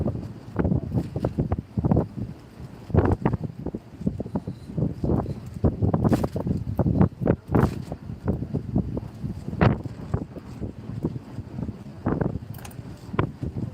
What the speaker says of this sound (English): That wind is definitely freshening though, all the time.